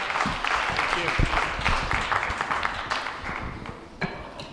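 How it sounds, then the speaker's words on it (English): An audience at a school board candidates' night applauds, dense sustained clapping filling the room with voices mixed in, gradually tapering toward the end. "Big round of applause for everybody there."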